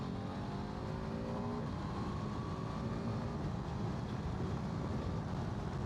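A BMW F450GS motorcycle engine pulling hard in third gear on a downhill stretch, a loud continuous drone with rising engine pitch and a steady rush of wind noise throughout.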